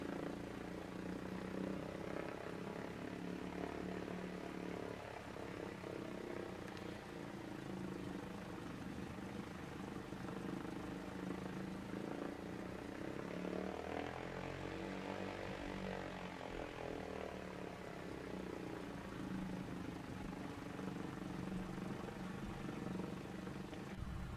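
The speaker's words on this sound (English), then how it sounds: "There's this A2A Cessna 172 doing the wing waggle." A2A Cessna 172 propeller engine in a flight simulator at Bankstown airport, a steady, continuous drone with a low buzzing hum holding even throughout, no voices.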